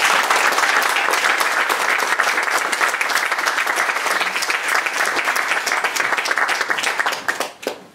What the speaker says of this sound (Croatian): Molim vas odmah aplauz za Daše Drndić